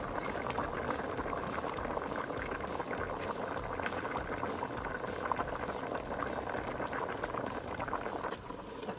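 String beans go into a pot of salmon sinigang soup at a steady rolling boil, with continuous bubbling and liquid churning close by and no talk.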